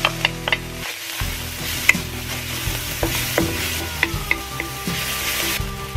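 Onion and garlic sautéing in a pan for chicken chop suey, an even sizzle broken by repeated sharp clinks and scrapes of a utensil stirring against the pan, close and moderately loud.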